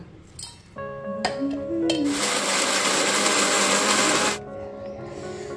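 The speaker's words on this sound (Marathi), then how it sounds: "मिक्सरचं भांडं लहान आहे, त्याच्यामुळे मसाला वेगवेगळा वाटायचा" After a few clinks and a motor whine, a mixer grinder with a small jar roars loudly for about two seconds grinding spice masala for misal, then cuts off abruptly.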